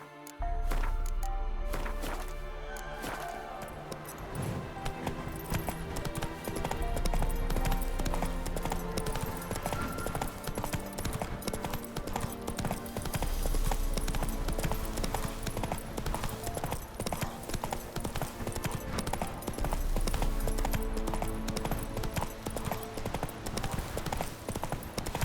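A horse gallops in The Witcher 3 on the next-gen update, with steady rhythmic hoofbeats running continuously for the whole stretch over game ambience and music.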